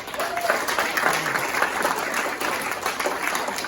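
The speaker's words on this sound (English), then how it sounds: "Give another round of applause for Roy out there, guys." A live audience at an evening show gives a sustained round of applause, dense and steady clapping at close range for the whole stretch, with a faint murmur of crowd voices underneath.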